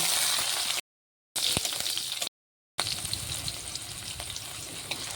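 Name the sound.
capsicum frying in oil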